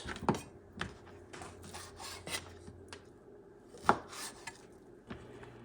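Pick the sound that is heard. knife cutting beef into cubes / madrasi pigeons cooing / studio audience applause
knife cutting beef into cubes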